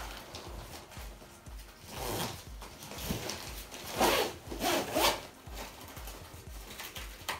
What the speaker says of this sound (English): Zip up, strap on top.